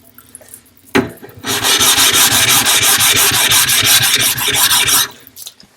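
Japanese natural sharpening stone being lapped flat, a steady rhythmic gritty scraping of stone on an abrasive surface, back-and-forth strokes for about four seconds, loud and close.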